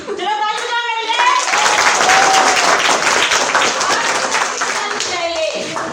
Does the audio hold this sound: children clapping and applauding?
yes